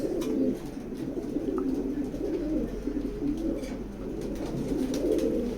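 Racing pigeons in a loft coo softly and steadily, a low continuous murmur of overlapping calls with faint rustling and a steady background hum.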